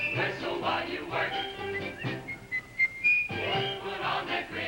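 Someone whistles a bright, bouncy tune over a backing of music, with a few clear sustained whistled notes in the middle.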